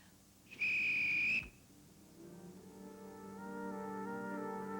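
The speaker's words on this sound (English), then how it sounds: "Oh, walloping whistles." A loud, steady, high-pitched whistle is blown in one long blast lasting under a second, followed by a soft low hum and a rising tonal drone.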